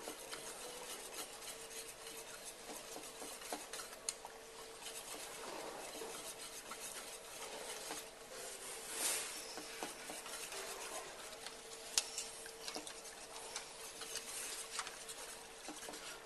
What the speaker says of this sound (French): Et là, je fais dissoudre mon chocolat.